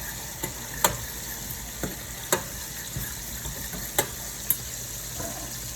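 Chicken wings sizzle in a frying pan while being stirred, with a steady hiss broken by several sharp clacks and scrapes of the utensil against the pan, close up and without voices.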